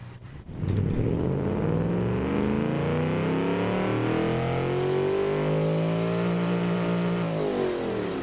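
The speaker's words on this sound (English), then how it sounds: "It sounds like an automation V8 engine." A V8 engine in the car-building game Automation revs up and holds a loud, steady roar, its pitch sweeping upward and easing back down without any talk over it.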